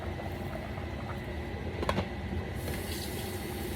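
Rustic potato and sausage soup simmers in a pot on the stove, a soft, steady bubbling close by with a brief clatter near the middle.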